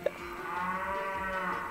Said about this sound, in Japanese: ほら、牛みたいな声出てる。